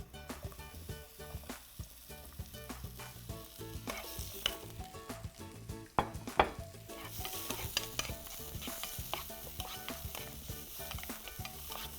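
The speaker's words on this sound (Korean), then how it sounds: "그 다음에 달궈진 팬에 바로 이제 오일 조금만 두르고 이제 파프리카 노란색 볶아줄게요." A yellow bell pepper stir-fries in a little oil in a hot pan, with continuous sizzling and repeated stirring scrapes and clacks throughout, close and fairly loud, with no talking.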